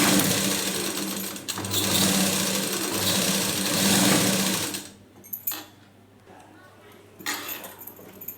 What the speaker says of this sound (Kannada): ಇಲ್ಲಿ ಸ್ಟಿಚ್ ಮಾಡುವಾಗ ಒಂದು ದೊಡ್ಡ ಹೊಲಿಗೆ ಇಟ್ಕೊಂಡು ಸ್ಟಿಚಿಂಗನ್ನು ಮಾಡ್ಕೊಳ್ಳಿ.